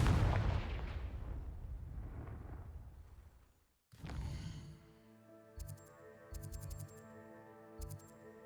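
Confringo fire spell in the Hogwarts Legacy video game, a loud booming blast that fades out, followed after a pause by a sharp impact, a ringing magical tone and a few small clicking bursts, no talk.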